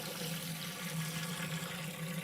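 Water runs into a brewing pot for mashing an American amber ale, a continuous close gushing pour that stays steady and fairly quiet, with no voices over it.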